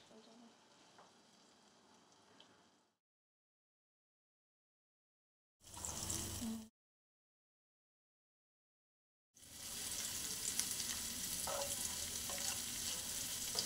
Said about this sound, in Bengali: রসুন কুচিগুলো দিয়ে কিছুক্ষণ নেড়ে নেওয়ার পর